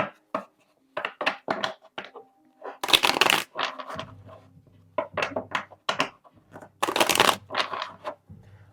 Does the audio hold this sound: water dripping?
no